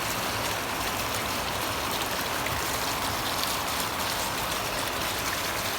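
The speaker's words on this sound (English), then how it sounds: "It's thickest right here. Flowing out of the gutters." Rainwater pouring out of roof gutters in a garden, a dense, steady rushing splatter that holds loud and unbroken from start to finish with no voices.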